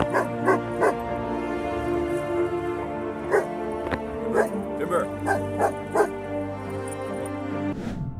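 A dog barks and yips repeatedly in sharp bursts while defending a person from a wild cougar, with whimpers between barks and a narrating voice running underneath.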